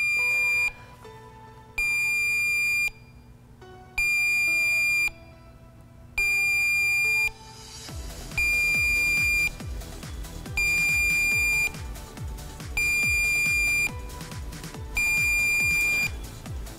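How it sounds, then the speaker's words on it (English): An Accuprobe UV leak detector warming up, first giving slow, evenly spaced electronic beeps, then switching to a faster, steadier beeping pattern, loud and close with no talk. "Once that slow, steady beat increases and becomes rapid, um, now the leak detector is ready for use"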